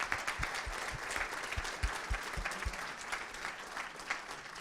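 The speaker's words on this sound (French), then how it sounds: "Vous pouvez l'applaudir." A seminar audience claps in a fairly faint, even patter lasting several seconds, with no voices over it.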